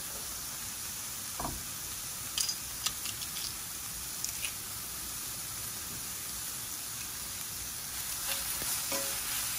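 Small garlic cloves sizzle and hiss steadily in a pan while being stirred for chicken stroganoff, a constant close frying crackle with a few light scraping clicks from the utensil and no talk.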